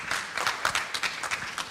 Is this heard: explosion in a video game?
no